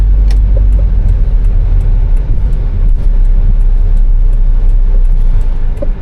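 An old car's engine idles in Bangkok, heard as a loud, steady low rumble that stays constant throughout, with faint light clicks and rattles on top and no talking.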